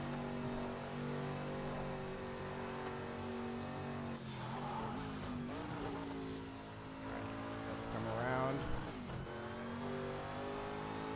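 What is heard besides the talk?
car engine and tires on a racing lap, video game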